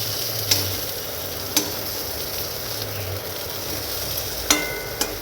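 Pointed gourd (potol) fries in a pan with salt, turmeric and slit green chillies, giving a soft steady sizzle broken by a few sharp clicks of a spoon against the pan.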